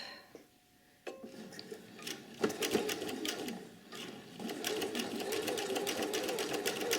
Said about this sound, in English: my machine is now going to stitch